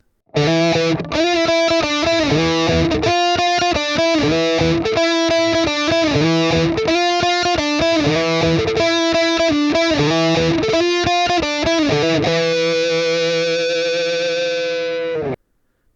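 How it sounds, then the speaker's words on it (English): A heavily distorted electric guitar chugs out a fast, driving riff of repeated chords, loud and up front, ending on a sustained ringing chord that cuts off. "And then an example of the distortion sounds like this"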